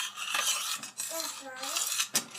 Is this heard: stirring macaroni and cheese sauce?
yes